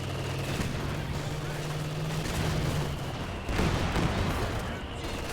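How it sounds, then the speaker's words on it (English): Explosions and artillery fire rage across a battlefield in Company of Heroes 2, a dense, continuous crackle of gunfire and blasts with a heavier burst of booms near the end. "multiple explosions raining in the center of the map"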